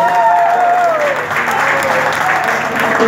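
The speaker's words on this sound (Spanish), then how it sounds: "los aplausos para ellos" Audience applause for a newlywed couple at a Latin cumbia show, a dense, steady wash of clapping that holds loud for about three seconds, with a voice and faint music tones running underneath.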